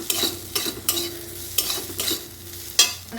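Spiced potatoes frying in a pan for masala aloo bhaja, stirred with a utensil: a steady sizzle under a series of sharp scraping strokes, about six in three seconds, close and fairly loud, with no talk.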